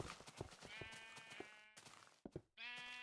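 Several Minecraft sheep bleating in a video game, repeated wavering baa calls that overlap one another, with soft thuds between them and a brief gap near the end.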